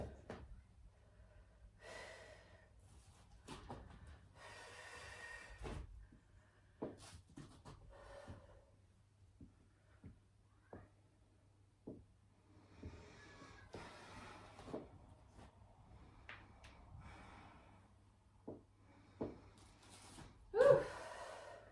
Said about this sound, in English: No idea why I'm breathing so hard today.